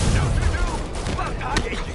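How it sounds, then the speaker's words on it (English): Dense gunfire crackles through a chaotic street shootout in the Marvel's Spider-Man video game, with rapid overlapping shots, booms and sirens-like tones blending into a loud, continuous battle din. "That shootout's gonna get someone killed."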